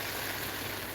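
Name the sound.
running water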